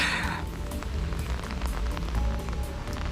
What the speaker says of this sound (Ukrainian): іде дощик